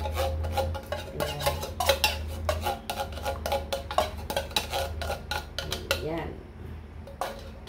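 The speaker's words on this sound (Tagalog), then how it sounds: "Tapos, continuous ang paghalo para hindi mamuo yung ating cornstarch." A spoon clinks and scrapes steadily against a pot while milk and cornstarch are stirred for avocado ice candy, a busy close rattle of metal taps with a brief spoken word near the end.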